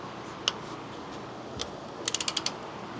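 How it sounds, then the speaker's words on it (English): A ratcheting torque wrench tightening a steering bolt on a Jeep JL: a couple of isolated clicks, then a quick run of five crisp ratchet clicks, close but fairly quiet over a steady background hiss. "once we have this in, we're gonna torque it down to 150 foot-pounds of torque"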